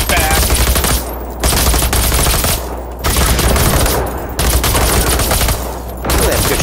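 Bursts of automatic gunfire in the video game Generation Zero, four loud sustained volleys of rapid shots each lasting about a second, separated by short pauses.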